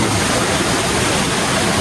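A stream runs right beside mountain accommodation near a village in Sapan, rushing steadily and loudly at close range with continuous broadband water noise and no voices.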